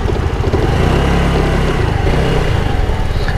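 A 125 cc scooter engine runs steadily and loudly nearby with a buzzing, throbbing drone as it is ridden, holding an even throttle without clear revving.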